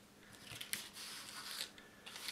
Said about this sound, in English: Always trim off with your excess